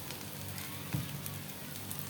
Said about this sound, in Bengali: দিয়ে দিলাম অল্প করে জিরা,